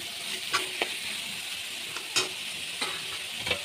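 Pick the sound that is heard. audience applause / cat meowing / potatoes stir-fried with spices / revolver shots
potatoes stir-fried with spices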